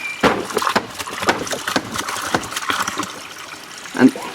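Water trickles and splashes out of a handmade sacred-geometry bath in short, irregular bursts, close and fairly loud, with a louder gush near the end and a voice speaking faintly beneath it.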